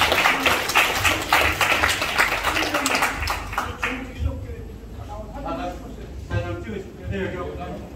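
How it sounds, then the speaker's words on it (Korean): Applause from an audience at a memorial reconciliation ceremony for bereaved families in Gyeongsan, a dense steady patter of clapping filling the hall before fading into a speaking voice. "자, 박수 한번 주십시오"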